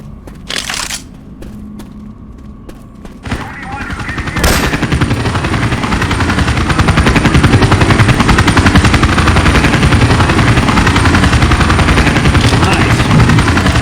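Video game gunfire in Left 4 Dead 2 using Syphon Filter weapon sounds: a few scattered clicks and shots, then a long, loud, rapid unbroken stream of automatic fire.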